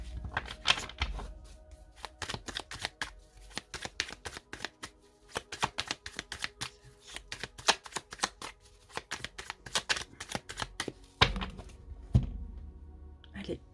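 Tarot cards are shuffled and cut in rapid, rhythmic riffles and taps that run continuously near the listener, with a few louder slaps toward the end.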